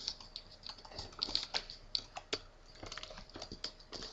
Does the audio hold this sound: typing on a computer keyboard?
yes